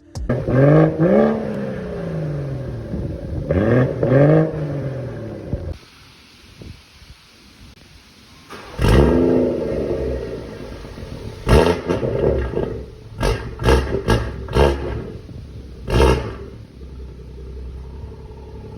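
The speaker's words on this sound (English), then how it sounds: "we'll give you a quick sound comparison between our stock downpipe and now our CATLESS downpipe" A 2017 BMW M240i with a catless downpipe and cold start turned off revs repeatedly, rising and falling engine roars followed by sharp throttle blips and bursts, loud and close, with no talk.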